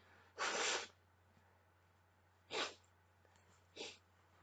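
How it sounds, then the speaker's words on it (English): Three bursts of forceful nasal blowing, one long then two shorter, close to the mic over a low steady hum. "Excuse me, I need to blow my nose."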